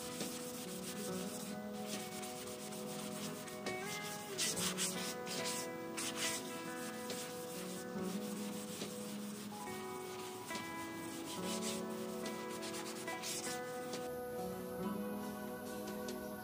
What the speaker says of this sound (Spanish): Una vez ya seco, vamos a pasarle nuevamente la esponja.